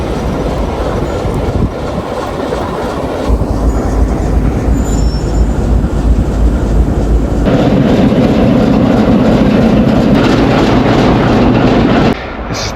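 A train rumbles past at a station on the way to Romania, loud and steady with clattering wheels and metallic rattle, swelling heavier midway before cutting off near the end, no talk.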